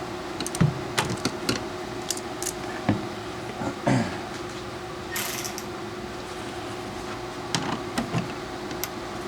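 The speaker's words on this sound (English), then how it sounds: "get the ratchet and loosen it." A ratchet loosening a fitting on a Buick Grand National's Powermaster brake system, sparse mechanical clicks and clacks scattered among light metallic handling noises, close and fairly quiet.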